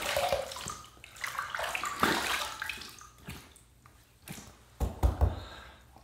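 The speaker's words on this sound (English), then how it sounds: "Let's rinse." Tap water running in bursts as a razor is rinsed, close splashing that swells and fades, with a few knocks near the end.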